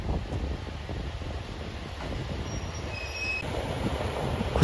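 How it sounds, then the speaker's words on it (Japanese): Ibara Railway IRT355 diesel railcar pulling into Soja Station, a steady rumble of rolling wheels with thin high rail squeals near the end, fairly close and without voices. "HRT355 系機動車伊原鉄道の列車がやってきました。"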